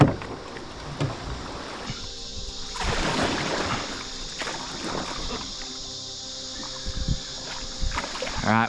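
A kayak heads down a small river rapid, with paddle splashes and rushing water bursts over a steady background hiss, while voices talk intermittently.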